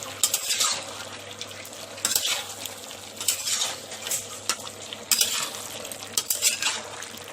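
Potatoes and chickpeas being stir-fried for a village-style bhanda aloo curry, a spoon scraping and clanking against the pan in repeated strokes over a steady low sizzle.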